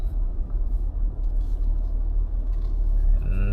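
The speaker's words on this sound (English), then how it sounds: "Let's actually reverse park here." A 2025 VW Touareg R-Line reverse parks, giving a steady low engine rumble and road hum heard from close by, with no talk over it.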